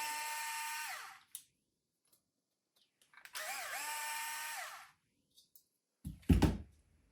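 A small powered 1.5mm hex driver backs out fairlead screws on a Traxxas TRX-4 winch, two close whining bursts of spinning with pitch sweeps, separated by silence, followed by a few clicks and a handling thunk.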